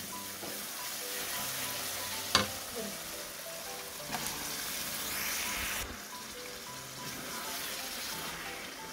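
Chicken frying in a pan with spices such as chili powder and cumin powder, giving a steady close sizzle with a few sharp pops and crackles, alone and without talk.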